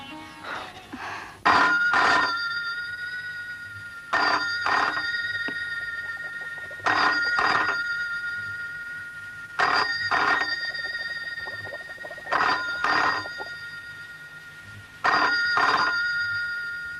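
A telephone rings in a 1991 Hindi film scene, sounding six loud double-burst rings spaced at regular intervals, each trailing off before the next.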